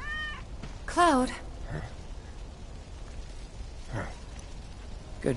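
A cat meows in the video game Final Fantasy VII Remake, one loud, close, wavering meow followed by a few softer short mews spaced over several seconds, with faint game ambience beneath.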